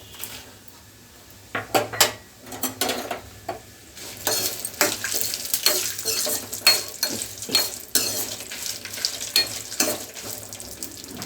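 Gongura pickle with garlic cloves being stirred in a pot, a ladle knocking and scraping against the metal in an irregular run of clinks over a low sizzle, close and steady.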